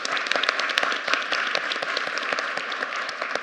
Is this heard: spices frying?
no